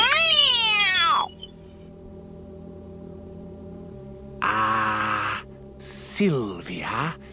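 A cartoon cat from a 1986 animated film gives a drawn-out, falling meow at the start. After a quiet gap, more strained cat-like vocal cries follow near the end.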